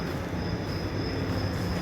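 Low, steady rumble of a train running, with a continuous hum and no distinct clacks or voices over its brief span.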